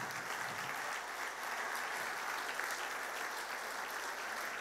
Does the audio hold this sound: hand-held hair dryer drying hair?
no